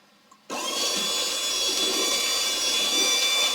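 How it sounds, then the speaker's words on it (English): An electric mixer churns Grinch cookie dough, switching on abruptly after a brief quiet moment and then running at a steady, loud whirring drone close by for the rest of the clip. "And then mix that all up. And I'm going to go back to my mixer."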